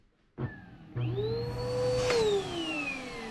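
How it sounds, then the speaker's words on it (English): A clogged vacuum cleaner switches on with a whirring motor whine that climbs in pitch, then bends and dips as it keeps running loudly. "The vacuum sounds horrible, has a horrible sound to it."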